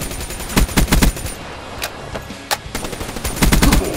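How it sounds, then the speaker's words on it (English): Rapid automatic gunfire rattles through a Black Ops 3 match in several sharp bursts, with scattered single shots between them, loud and close, as if aimed at an idle player. "Quit shooting the AFK guy!"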